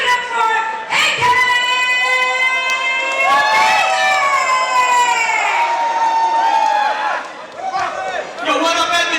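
A large crowd at an Edmonton show cheers, screams and claps loudly as a performer is introduced, with high shrieking voices rising and falling over continuous clapping.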